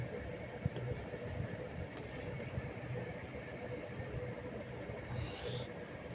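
A train passing near the road to Jamuna Bridge, heard as a steady, broad rumble of rolling wagons that holds through the whole stretch at moderate loudness, with faint high squeals drifting above.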